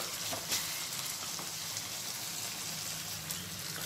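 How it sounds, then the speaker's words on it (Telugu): Onions sizzle and crackle in hot oil in a pan for a Rayalaseema-style Bombay chutney made with gram flour, a steady dense hiss close by with faint spoon scrapes and no talking. "చూడండి ఇప్పుడు కొద్దిగా ఆనియన్స్ ఫ్రై అయ్యాయి"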